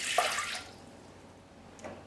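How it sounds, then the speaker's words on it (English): Water is poured into a Thermomix for pizza dough, a short splashing pour at the start that trails off, followed by a faint drip near the end. "We then add the 250 ml of water,"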